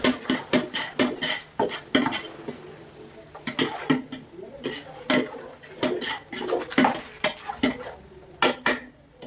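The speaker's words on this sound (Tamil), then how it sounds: "வெங்காயம் நம்மளுக்கு சிவப்பாக வரவே நல்லா கிண்டிக்கலாம்" Onions for biryani being stirred in a pan, with repeated sharp scraping and clinking of a metal spoon against the pan in an irregular rhythm, loud and close, with a faint sizzle underneath.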